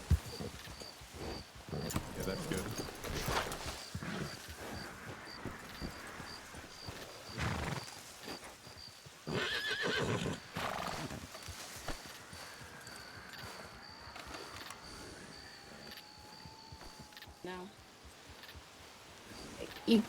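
Horse hooves clip-clop steadily through brush in the open, with a brief neigh and people talking nearby between the footfalls.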